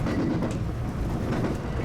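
A JR Sanyo Line train rumbles and clatters steadily as it pulls into a station in Japan, a dense low roar with faint rhythmic clicking of wheels.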